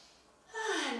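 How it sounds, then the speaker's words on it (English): A single deep breath drawn in during a seated yoga twist, swelling from quiet to a steady, close airy rush over the second half. "Breathing in."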